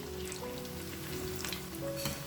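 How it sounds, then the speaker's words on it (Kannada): Food frying in a pan over a medium flame for a crunchy Kannada snack, a steady soft sizzle running throughout at moderate level, with no voices. "ಸ್ವಲ್ಪ ರೆಡಿಶ್ ಆಗೋ ತನಕ ಇದನ್ನು ಫ್ರೈ ಮಾಡಬೇಕು"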